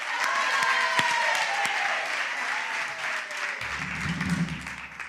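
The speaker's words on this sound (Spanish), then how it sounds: "Un aplauso a Nilda, un aplauso" An audience claps steadily and fairly close in a church or stage setting, a broad wash of applause lasting throughout with a faint low murmur entering near the end.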